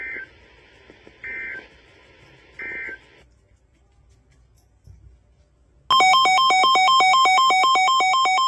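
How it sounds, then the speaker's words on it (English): An Emergency Alert System broadcast for a snow squall warning from the National Weather Service in Pittsburgh: three short data-burst squawks, a pause, then a loud, steady two-tone alert blaring on. "this was a test of the specific area message encoding and tone alert systems"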